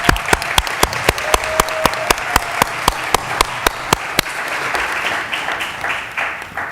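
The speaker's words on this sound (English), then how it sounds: "let's give a round of applause to Eastside High School student" Applause at a city council meeting: a few sharp, loud individual claps ring out near the front over a steady bed of audience clapping that gradually fades toward the end.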